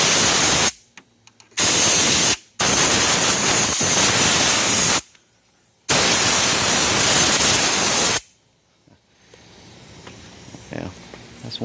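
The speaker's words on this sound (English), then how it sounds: "You gotta blow it out with air." Compressed air blasted through a Jeep XJ radiator in several loud, close, hissing bursts separated by short pauses, then a quieter stretch at the end.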